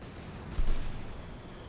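Artillery shells from a barrage in Company of Heroes 2 land with a single muffled boom that rises abruptly and rolls off over a noisy, dense background.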